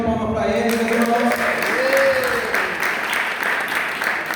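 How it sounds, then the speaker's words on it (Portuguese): Congregation applause at a church anniversary service, with steady clapping filling the room while voices call out beneath it. "dá uma salva de palmas para ele, meu irmão."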